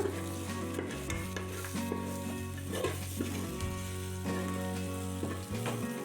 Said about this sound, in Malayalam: നമുക്കൊന്നുകൂടി ഒന്ന് ഇളക്കിയെടുക്കാം.